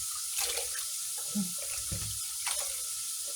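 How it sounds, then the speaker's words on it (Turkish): Leeks being washed under a running kitchen tap, a steady hiss of flowing water with scattered splashes and clunks as the stalks are handled in the sink, fairly close and without talk. "ben de pırasalarımı yıkayayım"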